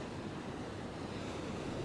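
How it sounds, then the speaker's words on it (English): Storm surge waves from Hurricane Dorian crashing onto a deck on the Georgia coast, a dense continuous roar of surf and wind, loud and unbroken with no voices. "the water crashes right up onto the deck"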